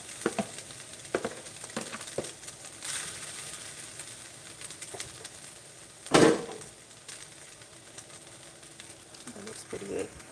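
Cooked ground turkey tipped back into a hot stir-fry pan, giving a sizzle and scattered clatter with one loud scrape or clunk midway, under intermittent talking.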